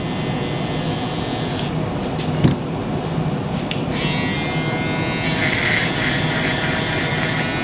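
Wahl Five Star Magic Clip adjustable-blade clippers buzzing steadily through a barber's high bald fade, a close, constant electric hum with a brief knock partway through and a brighter, harsher whine toward the end.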